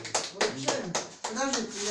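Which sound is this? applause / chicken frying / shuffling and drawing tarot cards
applause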